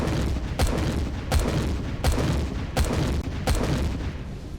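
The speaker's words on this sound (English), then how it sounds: "it fires explosive rounds, reasonably rapid fire" Heavy video game cannon shots, explosive rounds from a medium cannon in Empyrion Galactic Survival, boom in a steady rapid rhythm, about six loud blasts over a constant rumbling background.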